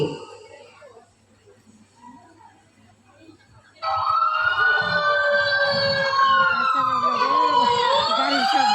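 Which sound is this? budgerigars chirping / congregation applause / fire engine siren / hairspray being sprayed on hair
fire engine siren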